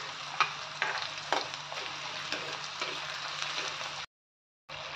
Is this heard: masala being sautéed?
yes